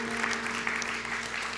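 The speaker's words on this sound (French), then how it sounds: "On applaudit, ça prend du courage." A church congregation applauds in a steady, continuous patter of many hands, moderately loud and filling the room for a brief moment.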